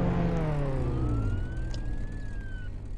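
A police car siren in a Roblox game wails with a slow rising and falling tone over a low rumbling engine, fairly close and steady, with no voices.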